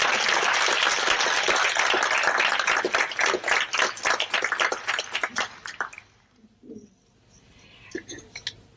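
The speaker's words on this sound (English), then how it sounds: "So I think another round of applause would be appropriate." Loud audience applause at a community follies show, a dense burst of many hands clapping up close that thins into scattered claps and dies away into near silence.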